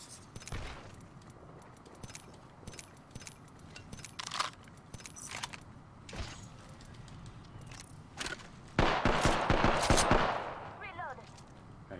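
Scattered gunfire from a squad firefight in Apex Legends, with sharp shots in loose irregular bursts over game ambience and a louder sustained volley near the end, along with faint game voice lines.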